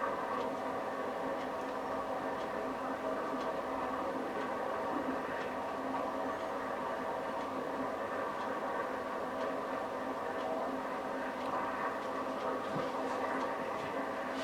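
A steady mechanical rumble and hum of a model train headed by a Stanier tank locomotive running continuously, with faint clicks over the track, no voices.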